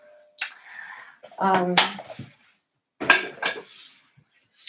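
A pot is handled on a stove at the start of cooking Hungarian goulash, with sharp metallic clanks and clinks in separate bursts. Speech is heard in the background.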